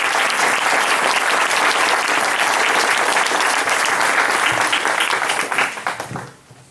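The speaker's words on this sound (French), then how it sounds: "Donc je pense qu'on peut encore l'applaudir pour ça." A school audience applauds after a student's guitar piece, a dense, loud burst of clapping from many hands that holds steady and then tapers off into scattered claps.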